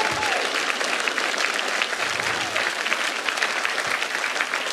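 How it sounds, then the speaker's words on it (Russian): A loud, dense ovation breaks out for a contestant on a stage show after he wins 20,000 hryvnias. The packed crowd claps continuously and evenly throughout, with no pause. "Давайте его искупаем в овации!"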